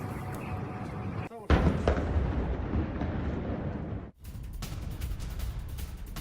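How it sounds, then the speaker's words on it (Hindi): Repeated bomb explosions in Tehran, heard as a loud, continuous rumbling roar with sharp bursts and abrupt cuts, dense and sustained throughout. "और देखिए तेहरान में लगातार बम विस्फोट भी हो रहे हैं।"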